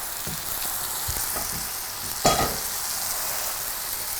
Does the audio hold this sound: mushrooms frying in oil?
yes